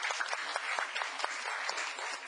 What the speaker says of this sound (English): Applause, please, for a fine job that he did